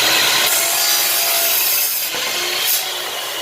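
A saw cuts through clamped wooden boards with a loud, steady, close rasping drone that holds for the whole stretch, briefly easing and swelling again, with no talk.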